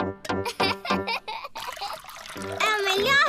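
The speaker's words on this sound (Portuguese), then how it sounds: "Vamos enchê-lo com água." Cartoon water pours into a toy dinosaur used as a teapot during a children's tea party, a brief splashy trickle set between lively children's voices talking close by.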